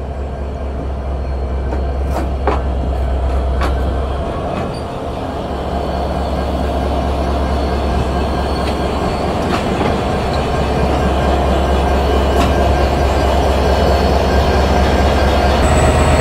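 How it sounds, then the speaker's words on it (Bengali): A 66 series broad gauge diesel-electric locomotive, number 6608, hauls an express train with a loud, steady rumble and a low engine drone, broken by faint rhythmic wheel clicks. "এখানে 66 সিরিজের ব্রডগেজ ডিজেল ইলেকট্রিক লোকোমোটিভ দেখতে পাচ্ছি"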